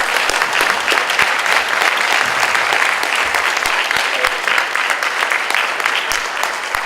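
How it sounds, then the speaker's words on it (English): Loud, sustained applause fills the room at an environmental forum for mayoral candidates, many hands clapping in a dense even roar for nearly seven seconds, with faint crowd murmur beneath. "Let's have a round of applause for the candidates"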